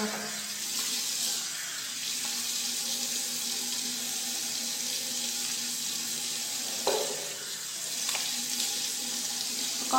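Tap water runs continuously into a sink while someone washes their face with soap, making a steady broadband rush with a few brief splashes and knocks near the end and no talking.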